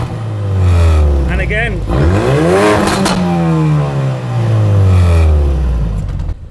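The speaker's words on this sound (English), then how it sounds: "So we'll see how loud the RS is on full throttle max revs." A Ford Focus RS engine revs hard at full throttle to max revs, its pitch climbing and falling back twice, loud and close, with a brief spoken remark over it.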